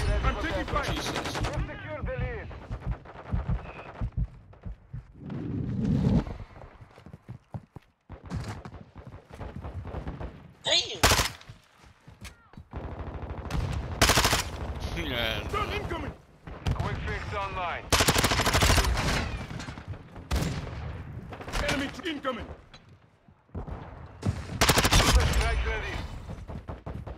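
Loud bursts of automatic gunfire and single shots crackle through a Call of Duty: Modern Warfare II match, coming in repeated volleys. A player talks over the fighting.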